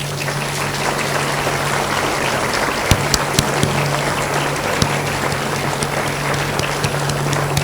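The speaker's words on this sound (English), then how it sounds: "give them a huge round of" Graduates at a conferring ceremony applaud their families and friends, a continuous wash of clapping with a few sharper close claps standing out, steady in level throughout.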